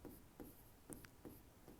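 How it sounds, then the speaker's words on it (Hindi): A pencil writes by hand on paper during a class 10 maths lesson, giving short, soft scratchy strokes that repeat at a steady pace, close and quiet, with no talk over them. "यहां पे लिखते हैं हल"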